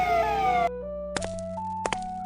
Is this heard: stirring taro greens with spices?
no